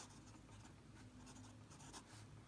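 A steel-nib fountain pen with a broad-feeling dark nib scratches across paper in a quiet, faint, continuous rasp, with a few slightly louder strokes near the end and no voices.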